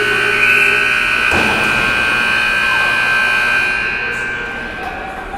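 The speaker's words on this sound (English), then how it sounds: "as the buzzer sounds" A steady electronic buzzer tone holds throughout, loud and sustained over crowd noise in a large hockey arena, tapering slightly at the end.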